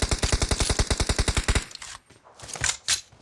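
Automatic gunfire in PUBG Mobile: a loud, close burst of about fifteen rapid, evenly spaced shots, then a pause and a few scattered single shots farther off.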